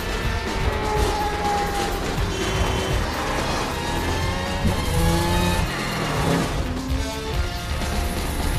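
A high-speed car chase from the film The Transporter 2, with engines revving and accelerating, tires squealing and impact noises over a busy, loud mix, with no talk.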